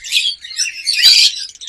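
Caged lovebirds, seven-month-old birds, chirp in a quick burst of bright, overlapping high calls, close and fairly loud, with no voices.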